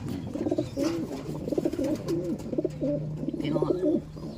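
Pet pigeons or doves coo in repeated soft, rolling calls close by, with faint human voices and household noise in the background.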